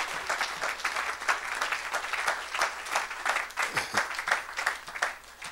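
A church congregation at a Saturday service applauding, dense continuous clapping from many hands that rises and falls in waves across the room, with faint voices mixed in beneath.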